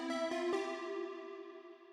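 An Anna 2 synth lead layered with a repitched delay sample: a few quick plucked attacks at the start, then one bright, harmonically rich sustained note that slowly fades out on its own.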